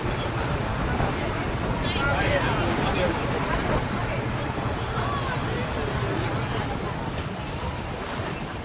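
Aboard a passenger boat bound for Kanyakumari, a steady rush of wind and churning water fills the whole stretch, with a crowd of voices chattering underneath throughout.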